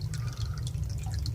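Water trickling in through a small hole, close and quiet, with light irregular drips and splashes over a low steady rumble.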